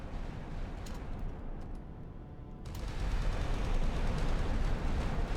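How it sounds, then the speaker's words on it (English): Naval gunfire from Italian warships in Sea Power, a dense, rumbling barrage of rapid firing that builds louder midway and rolls on steadily without talk. "That's a hefty rate of fire."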